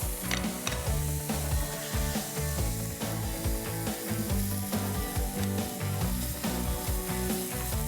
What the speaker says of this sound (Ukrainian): Ви чуєте, як вони шкварчать, тому вони називаються шкварки.